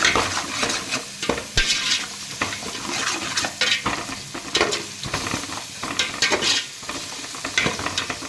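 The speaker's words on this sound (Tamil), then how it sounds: "நல்லா வதங்கட்டும்." Ginger garlic paste and chillies sizzle in a hot pan while a spoon scrapes and stirs, steady frying hiss broken by repeated metallic clinks and scrapes, close up with no talking.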